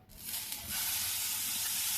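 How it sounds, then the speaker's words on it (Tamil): A spoon of butter sizzles and hisses in a hot kadai, a steady, close, broadband crackle that swells after a moment and carries on without talk. "அடுத்து ஒரு கடாய் வச்சுட்டு 1 ஸ்பூன் பட்டர் சேர்த்துட்றேன்."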